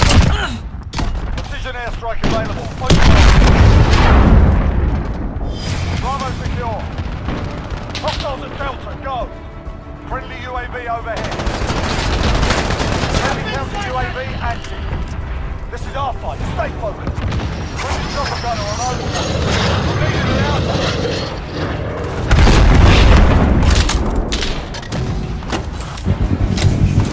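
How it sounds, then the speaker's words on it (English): Precision airstrike in Call of Duty Modern Warfare Ground War: heavy booming explosions and rapid gunfire, loud and near, with players talking over the battle. "Precision airstrike available. Fire."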